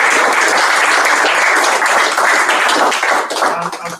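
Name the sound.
round of applause at a Rotary Club meeting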